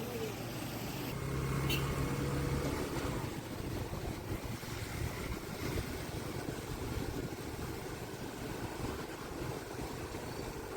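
Floodwater in Jaffna, near Navanthurai, rushing steadily toward the sea, a broad continuous wash with some wind buffeting the microphone.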